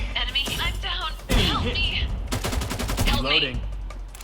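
Rapid bursts of automatic gunfire ring out in a shooting video game, several volleys stacked back to back and loud, with excited voices of players talking over and between the shots.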